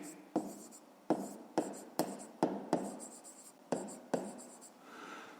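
Pen writing by hand on paper while working a fifth-grade decimal subtraction problem, with close, distinct strokes in short bursts, about nine scratchy onsets separated by brief pauses.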